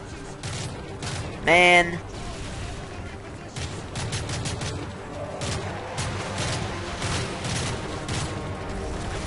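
Gunfire in the Call of Duty MW3 campaign, a dense spread of shots and bursts crackling steadily throughout, with a voice talking briefly over it.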